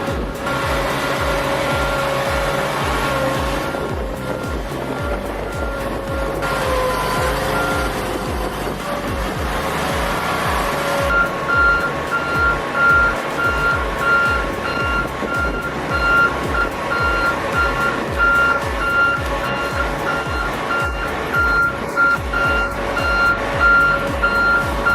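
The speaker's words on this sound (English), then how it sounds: "Reversing a 164-ton super long load is not a normal driving task." A heavy haul truck reverses a 164-ton, extra-long oversized load. Its reversing alarm beeps in a steady, repeating rhythm over a loud, continuous diesel rumble throughout, with no voices.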